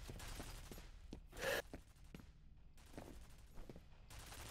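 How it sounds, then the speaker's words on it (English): Turrets firing in a horror-themed mobile game, heard as quiet, rapid mechanical bursts with one louder burst of shots near the middle and lighter repeated pops around it. "Yo, he activated turrets."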